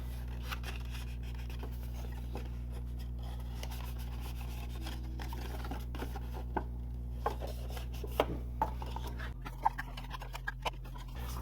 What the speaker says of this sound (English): we're going to go ahead and fold and burnish along all of the score lines